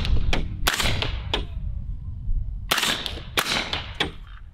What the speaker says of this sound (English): We got the suppressor cover on the 300 Blackout here, so we'll just take a few shots with this